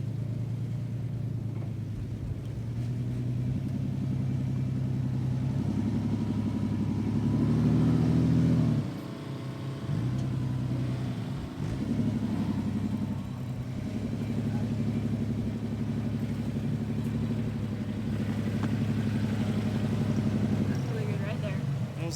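Jeep engine idling and rumbling low on an off-road trail as it tows another vehicle free, steady mid-range drone with a brief rise in effort, people talking over it.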